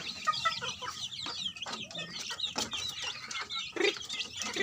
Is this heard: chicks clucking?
yes